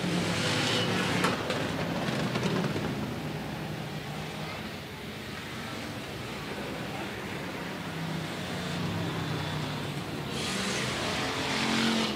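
Sportsman stock cars racing through turn four at Rapid Speedway, a steady broad engine roar at middle distance that swells and fades slightly as the pack passes, with crowd and track ambience throughout.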